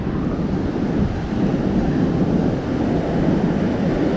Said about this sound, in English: The noise of the ocean.